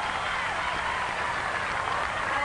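A tennis crowd at the 1997 Hilton Head final between Seles and Hingis cheers and applauds steadily, a dense continuous roar with no breaks throughout.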